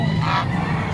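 A goose honks loudly and close by at an animal market in San Carlos City, Pangasinan, Philippines, a harsh nasal call over a busy background of ducks and other fowl.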